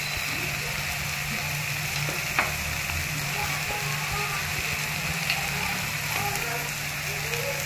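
Masala for shev bhaji sautéing in a pan on low heat, giving a steady, even sizzle with occasional soft stirring taps, close and continuous.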